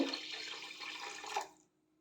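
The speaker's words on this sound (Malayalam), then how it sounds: "ഗ്രേവിക്ക് ആവശ്യമായ വെള്ളം കൂടി ഒഴിക്കുന്നുണ്ട്" Water pours into a pan for the gravy of a lovi-lovi pickle, a close splashing stream lasting about a second and a half before cutting off to silence.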